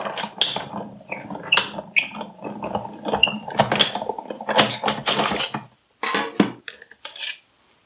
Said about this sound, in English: send it back on through the big shot with our second piece